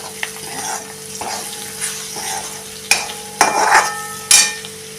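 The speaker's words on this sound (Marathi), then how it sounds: "आणि हा 1 चमचा गोडा मसाला, हे आता चांगलं परतून घ्या।" Bitter gourd sautés in a pan with a spoonful of goda masala: a steady sizzle with repeated scraping stir strokes and a few sharper spoon knocks against the pan toward the end.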